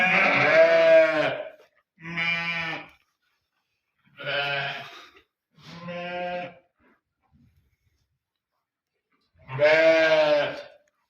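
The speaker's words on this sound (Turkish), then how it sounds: "koyunlarımız bu şekilde." Five loud, close sheep bleats spaced a second or two apart, each a wavering nasal cry, with silence between them.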